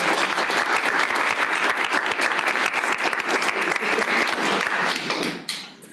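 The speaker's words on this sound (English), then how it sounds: "just a huge round of applause" A courtroom-style audience at the final round of a trial advocacy competition bursts into loud, sustained applause, dense steady clapping that carries on for several seconds before tapering off.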